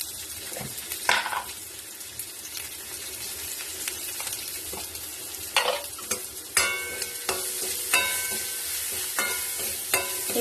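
Chopped onion, garlic and green chili frying in a pan with salt and turmeric, a steady close sizzle broken by stirring scrapes and utensil clinks, louder taps and knocks toward the end, no talk.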